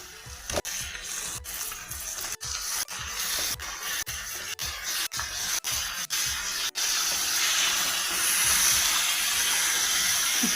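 Chicken pieces hit a hot pan over green chilli paste for a chicken masala, setting off a loud steady hiss punctuated by a dozen sharp clacks of pieces dropping in, the sizzle swelling at the end.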